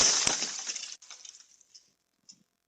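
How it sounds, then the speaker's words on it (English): A meteorite striking the ground in Canada, caught by a home surveillance camera: one sharp, bright crack and shattering burst up front, then scattered debris clatter fading out with a small late tick. "now for the first time a meteorite crashing to Earth has been filmed by a video camera, sound included."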